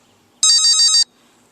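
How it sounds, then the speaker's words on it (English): One loud electronic beep from an electric skateboard's motor controller, slightly warbling and about half a second long, sounding alone in an otherwise quiet space. "And we should hear a beep in the motor."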